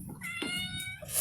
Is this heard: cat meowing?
yes